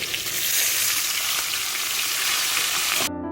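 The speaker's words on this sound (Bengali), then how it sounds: "এই যে এবার মাছটা তেলে ছেড়ে দেবো করে মাছগুলো আমি ভেজে আনবো" Fish sizzles in hot oil in a pan, a loud, dense, steady frying hiss with crackling that runs continuously and then cuts off abruptly near the end.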